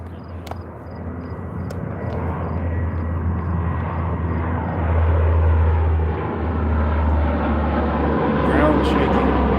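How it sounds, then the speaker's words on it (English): An aircraft makes a low flyover at sunset, its engine roar building and then holding steady and loud as people talk close by. "He's doing a flyover."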